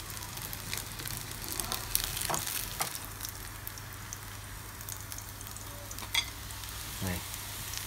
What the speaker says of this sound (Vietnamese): Sau lúc chiên thì cũng ok được quá.